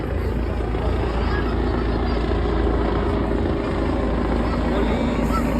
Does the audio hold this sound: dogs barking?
no